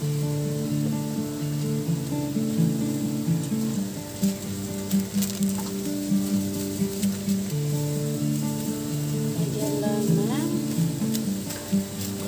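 Bean sprouts stir-fried in a pan, a steady sizzle broken by repeated scraping and stirring strokes, over quiet background music.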